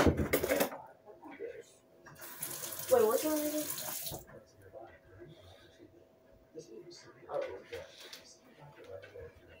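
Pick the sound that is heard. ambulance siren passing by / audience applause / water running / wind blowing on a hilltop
water running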